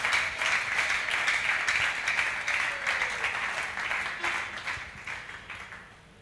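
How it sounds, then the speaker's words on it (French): A church congregation at a seminar applauds for the Lord, a full room of sustained clapping that runs steadily and then tapers off toward the end. "Est-ce qu'on peut encore une seconde fois acclamer pour le Seigneur?"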